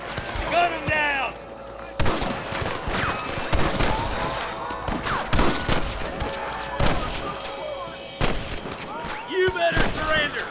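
Gunfire from the video game Red Dead Redemption on PS4: sharp, loud shots crack out irregularly, some in quick pairs, amid a shootout with shouting voices talking over them.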